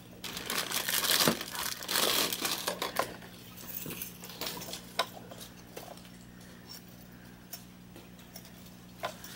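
Wax paper crumpled and crinkled by hand while untangling wire for a gem tree craft, giving a burst of close, crackly rustling early on that fades into scattered light ticks and taps over a steady low hum.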